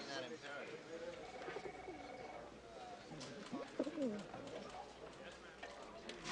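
Pigeon cooing mixed with other bird calls, a caged bird with an injured wing kept indoors in an office, heard softly under a man's speech.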